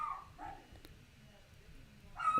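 A house dog barks and yelps faintly in short bursts at the start and end of an otherwise quiet indoor stretch.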